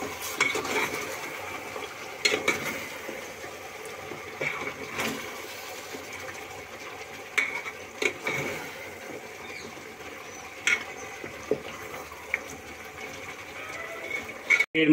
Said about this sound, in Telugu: వేసుకుని మొత్తం ఒకసారి కలుపుకోండి.